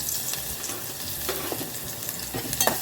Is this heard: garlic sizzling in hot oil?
yes